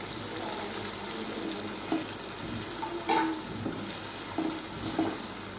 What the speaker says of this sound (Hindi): आलू को हम तकरीबन 2 से 3 मिनट जो है इसके अंदर मसाले के अंदर भूनेंगे।